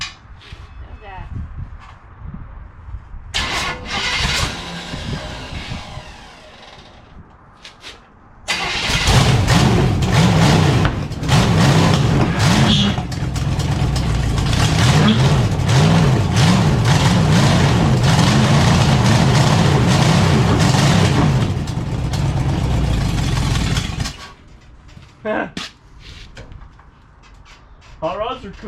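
Old 1927 Ford Model T engine coughing to life after years unused, then settling into a loud, rough, steady clatter for roughly fifteen seconds before cutting off, with people talking close by before and after.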